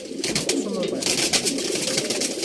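Kaldum pigeons coo softly amid a dense, noisy background, with low murmuring calls under steady ambient hiss and someone talking nearby.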